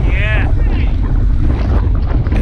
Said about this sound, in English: That's where the wind is coming from, and then we have gusts.